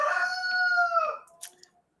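A rooster crows once, a long, clear, drawn-out call that fades at the end, followed by a couple of faint clucks, heard alone at moderate distance.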